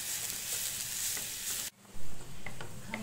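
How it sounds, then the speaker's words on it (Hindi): Grated carrot and cabbage being stir-fried in a pan as filling for veg momos, a steady close sizzle with stirring scrapes, briefly cut off midway before the frying resumes. "तो हम इसमें गाजर डाल देंगे और चलाते हुए हम इसे भूनेंगे।"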